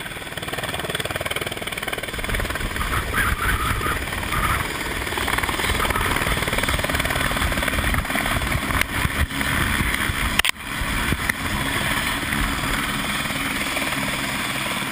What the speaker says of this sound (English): Helicopters bringing the technicians in and out from site.